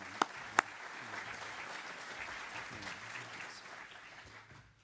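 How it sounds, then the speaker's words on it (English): Applause from a conference audience at an opening ceremony, a couple of sharp claps and then a steady, moderately loud round of clapping that fades slightly toward the end, with no talking. "If we could have a round of applause."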